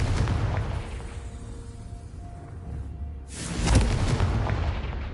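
A Confringo explosive spell is cast in the Hogwarts Legacy video game, giving a single booming blast partway through amid a steady rumbling game soundscape.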